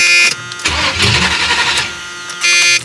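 A 1978 Chevrolet Malibu Classic engine cranks briefly, fires and revs up, then the starter whirs again near the end, close and loud with no talking.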